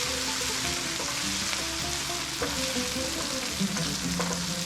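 Onion and garlic browning in a hot pan, a steady close sizzle and crackle with faint stirring underneath.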